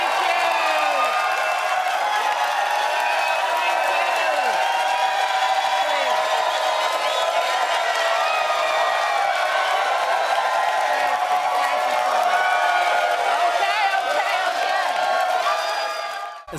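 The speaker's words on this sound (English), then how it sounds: "It was just the audience applauding Rosie." A large television studio audience cheers and whoops continuously, with scattered clapping blending into a dense, loud roar that holds steady throughout.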